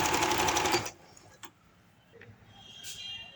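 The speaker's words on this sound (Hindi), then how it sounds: "तो अब मैं सारी सिलाई लगा के फिर आप लोगों को दिखाती हूँ।" A sewing machine stitching lace onto a lehenga runs in a fast close whirring burst for about a second, then stops, leaving faint clicks and handling noises.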